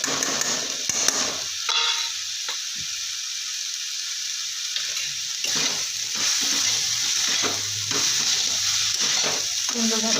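A pot of chicken soup being stirred after coriander leaves and half a spoon of garam masala go in, with soft sizzling and liquid swishing, bursts of spoon scraping and bubbling that come and go at moderate volume with no talk.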